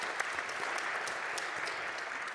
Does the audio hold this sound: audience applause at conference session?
yes